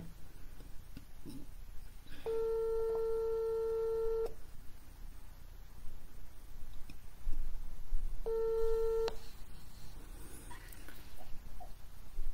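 Two long, steady telephone ringback tones sound, each lasting about two seconds and separated by a pause, as a call connects, over quiet room background.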